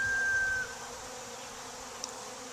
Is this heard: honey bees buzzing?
yes